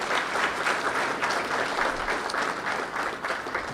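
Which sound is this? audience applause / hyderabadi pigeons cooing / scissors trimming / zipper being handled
audience applause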